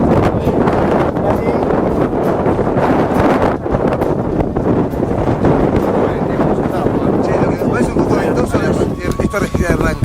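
Strong wind on a mountain trek buffets the microphone, a constant loud roaring rush with gusty flutter that goes on without a break, while a voice can be heard speaking under it.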